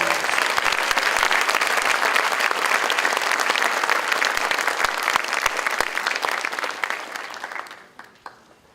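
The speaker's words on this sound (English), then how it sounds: "Let's give all of these tremendous students another round of applause" Sustained applause from a large audience at an academic awards ceremony, dense and steady clapping that gradually tapers off toward the end.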